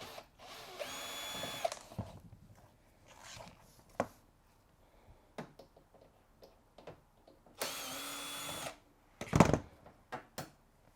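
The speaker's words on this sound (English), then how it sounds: "let's go right ahead and remove those screws so we can get this thing washing again" Power drill backing screws out of an LG washing machine, with several short whirring bursts separated by clicks, taps and handling noise, close and fairly quiet, no talk.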